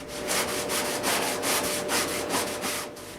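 A cloth wipes a wooden nightstand clean with alcohol, steady rhythmic rubbing strokes repeating back and forth at close range, moderately quiet and alone.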